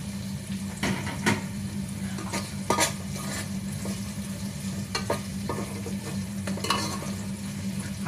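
Ginger sizzles in oil in a pan with a continuous frying crackle, broken by several sharp scrapes and clacks of a spatula as it is stirred.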